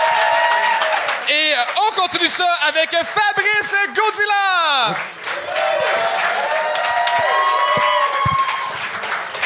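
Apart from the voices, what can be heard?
comedy show audience applauding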